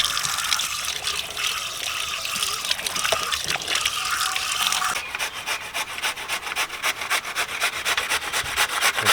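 Peeled pumpkin for kaddu halwa is washed in water, with rubbing and splashing under a running tap, followed by choppier, rhythmic scrubbing and sloshing close by.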